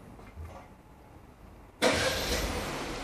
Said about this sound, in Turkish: Çalıştırdınız arabayı.